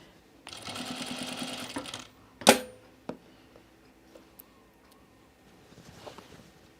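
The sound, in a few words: sewing machine sewing a dress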